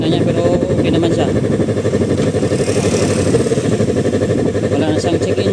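A Yamaha R3 motorcycle engine runs steadily with a close, continuous mechanical drone and light clatter at an even level from start to finish.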